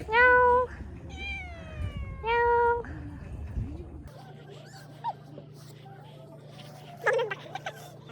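A cat meows loudly three times in quick succession, close by, at a cold winter campsite, followed by quieter whimpering and a steady background hum.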